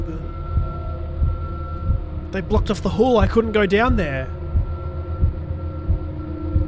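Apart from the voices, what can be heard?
heartbeat in horror video game Smol Scares The Karaoke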